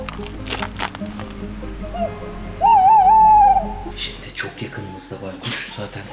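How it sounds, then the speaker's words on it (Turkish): A wavering, tremolo tawny owl hoot played from a speaker rings out for about a second, loud and clean, with voices talking before and after. "Alaca baykuş sesi bununla çağıracağız."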